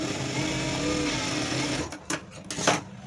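A sewing machine runs in a fast, steady stitching whir while sewing darts on a blouse, then slows and stops with a couple of short clunks near the end; no speech.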